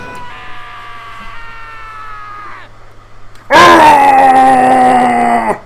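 Taka, a Danganronpa character, lets out a long, strained scream during his execution, first at a moderate level, then bursting into a louder, sustained wail that holds to the end.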